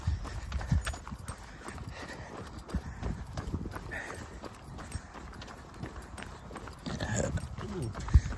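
Horses walk nearby on an easy run with a dog, hooves clip-clopping in a steady, uneven rhythm at moderate distance, with light ambient outdoor noise.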